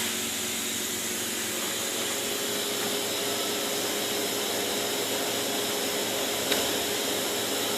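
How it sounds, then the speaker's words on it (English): A CNC machine with a Syntec controller runs after power-up, giving a steady, loud broadband whir like fans and motors that holds evenly throughout, with one brief click near the end. "And turn the machine on."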